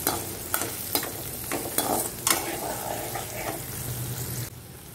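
Shallots and garlic sautéing in oil in a pan, a steady close sizzle punctuated by several sharp stirring or scraping knocks, fading away at the very end.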